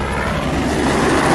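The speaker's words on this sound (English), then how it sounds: "every few minutes, a helicopter takes off" A helicopter taking off in Monaco, a loud, steady broadband rotor and engine roar filling the whole moment, close and continuous with no speech.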